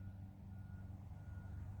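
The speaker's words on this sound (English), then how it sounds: "the continual, perpetual beeping of a construction truck, because we live in a suburban area that has become very popular" A construction truck's reversing beeps drift in from a distance over a low rumbling drone in a suburban neighborhood, faint and steady, with no voices.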